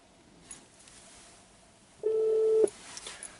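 A mobile phone call placed through Apple CarPlay in a car, heard as a single steady ringback tone of about half a second, clear and moderately loud over a quiet cabin hush.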